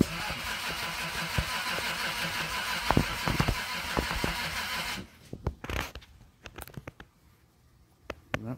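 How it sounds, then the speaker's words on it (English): A modern starter cranks the engine of a 1962 Austin Healey 3000 Mark II, a steady whirring drone for several seconds that cuts off abruptly, followed by scattered clicks and quieter mechanical sounds. "that's a modern starter, eh?"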